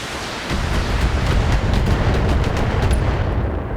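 An LRM missile barrage in BattleTech, a loud, continuous roar of rapid launches and impacts that starts abruptly and rumbles on as a dense crackling wash of blasts for several seconds.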